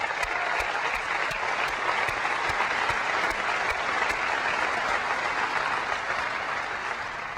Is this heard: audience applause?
yes